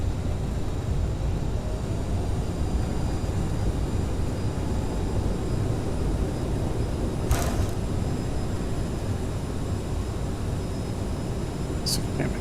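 An Aerosoft CRJ regional airliner lands in a flight simulator as its thrust reversers deploy, a loud, steady broadband engine roar that fills the whole stretch, with a couple of brief sharp clicks over it.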